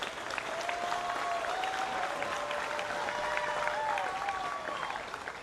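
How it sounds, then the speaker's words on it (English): Sustained applause from the crowd at a livestock goat show, steady clapping honoring the young showmen, with a faint whistle-like tone drifting through the noise. "I think there's a big round of applause in order for all the kids out here."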